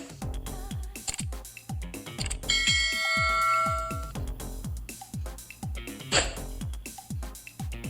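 Bell-like chime effect for an animated subscribe button, bright ringing dings over a steady run of plucked, decaying musical notes, with a sustained shimmering bell chord in the middle and no speech.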